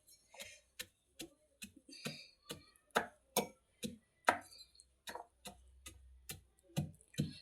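Chutney being pounded coarsely in a mortar and pestle in a home kitchen: sharp, regular thuds, about two per second, struck one after another, close and crisp against a quiet background.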